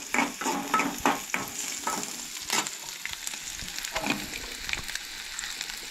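Sprouted moong and other ingredients for Goan mooga gathi being lightly roasted in a pan, a continuous soft sizzle broken by repeated scraping strokes of a spatula stirring throughout.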